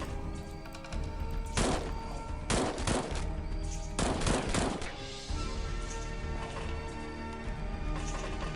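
Gunfire in the tactical game XPiratez rings out in a few sharp, loud volleys of overlapping shots, followed by a quieter stretch of low ambient game sound.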